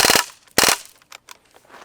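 A Crosman AK1 full-auto BB gun fires .177 metal BBs in two sharp, close bursts of rapid cracks, each a quick rattling string of shots, followed by fainter clicks and taps.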